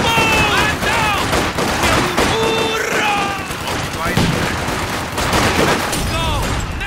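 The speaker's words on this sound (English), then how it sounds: "Comrades, fire at will! Open fire!" Dense small-arms gunfire in a Company of Heroes battle, rapid overlapping shots and bursts crackling continuously and loudly, mixed with shouted voice lines from soldiers.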